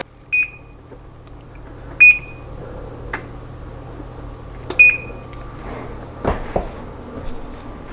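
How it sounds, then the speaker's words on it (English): An oven's electronic timer chirps in short high beeps, several separate bursts spread over a few seconds as the timer is set, with faint kitchen handling noises between them and no speech. "put these in the oven and set the timer at 15 minutes"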